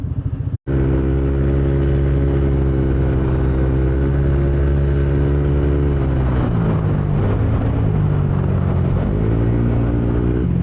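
A motorcycle engine idles loud and close at the start of a ride near Taal, then revs up and shifts in pitch, with a brief cut-out early on and no talking.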